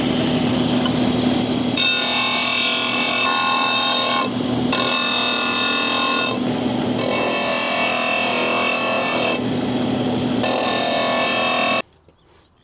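Coarse 60-grit sandpaper works a wooden piece for a custom toilet paper dispenser in a steady, loud, gritty rasp, in several long passes with brief pauses between, then stops abruptly near the end.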